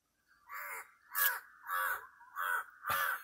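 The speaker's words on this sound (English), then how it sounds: "Crow's here." A crow caws at a hillside tea estate villa in Sri Lanka. Five loud, harsh caws come in a steady rhythm, close by, with nothing else heard.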